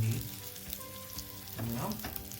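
Semolina-coated silver biddy fish fries in hot oil, a soft steady sizzle with a brief thud as a piece is turned, under low background music.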